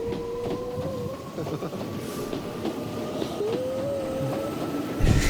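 A train rolling along rails with rhythmic clickety-clack from the wheels, a long squealing tone of wheels on track, and a closing thump, loud and close.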